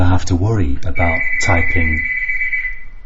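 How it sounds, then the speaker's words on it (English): A doorbell gives a sustained electronic ring under someone talking at close range, lingering after his words stop. "that was my doorbell going there"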